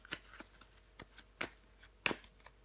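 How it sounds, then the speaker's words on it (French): Tarot cards are handled and flipped over in a quiet room, giving several soft, brief papery flicks and slaps spaced irregularly. "On va recouvrir des cartes."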